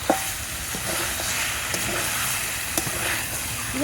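Potatoes being stir-fried in a pan with spices for an egg and jackfruit curry, a steady sizzling hiss with a few light clinks of a utensil against the pan.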